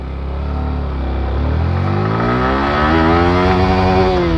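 A Yamaha R15 V4 motorcycle pulls hard in first gear, its engine note climbing steadily in pitch as revs build, loud and close throughout, with no speech.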